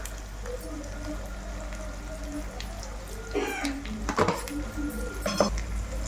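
A spoon stirring egg biryani masala in a pan, with scraping and clinking of metal against the pan that grows busier in the second half, over a low steady hum.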